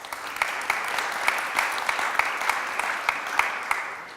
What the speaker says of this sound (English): A round of applause for our excellent panel